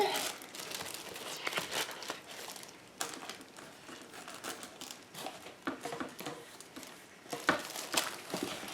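Sticker sheets being handled during planner setup, with crinkly rustling, peeling and tearing bursts that come in quick clusters close by, fairly quiet and with no talking over them.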